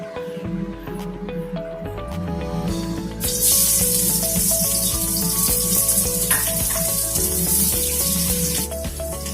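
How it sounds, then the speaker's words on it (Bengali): Sliced onions frying in hot oil until browned, for a garnish on a mutton curry: a steady, loud sizzling hiss that swells after a few seconds and holds, with faint tonal sounds underneath. "পেঁয়াজটাকে লাল করে ভেজে নিচ্ছি"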